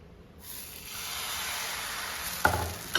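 Batter is poured into a hot pan to make a thin round sheet for a Kerala-style folder snack. A steady sizzling hiss starts abruptly and holds, with a couple of sharp clinks near the end.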